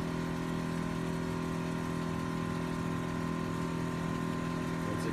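A Kleinn air horn compressor on a Jeep JK onboard-air setup runs steadily as it builds pressure, giving a continuous droning motor hum with an even, unbroken tone and no talking.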